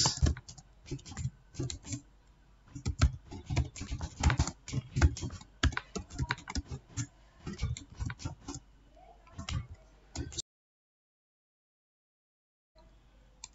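Rapid keystrokes on a computer keyboard while entering a numbered list in Microsoft Word, close and fairly loud, in uneven bursts for about ten seconds before silence and a faint tap at the end.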